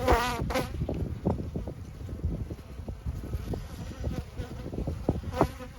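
Honey bees buzzing densely in a hive during a late-winter inspection, a loud continuous drone with shifting pitches and fluttering wingbeats up close, no speech.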